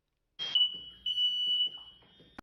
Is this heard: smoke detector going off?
yes